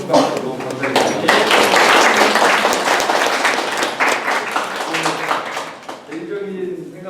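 Audience at an architecture lecture gives a sustained round of loud clapping, dense and close, thinning near the end as a voice resumes.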